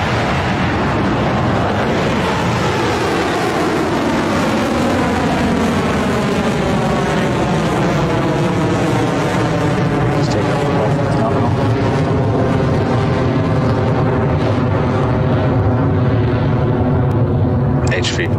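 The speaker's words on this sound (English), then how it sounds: "We have liftoff" Rocket Lab Electron rocket lifting off from its New Zealand launch site, a loud continuous roar with deep rumble and broadband crackle that holds steady and slowly shifts over about eighteen seconds, with no speech in the clip.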